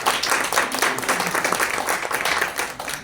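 An audience at a literary talk at the FIL 2025 book fair bursts into dense, sustained applause, many hands clapping together at a steady level throughout, with no voices over it.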